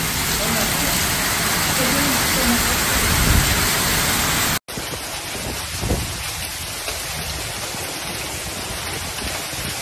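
Heavy rain pours down during severe flooding in northern Italy, a dense steady roar that fills the whole clip, broken by a brief cut midway before the downpour resumes just as thick.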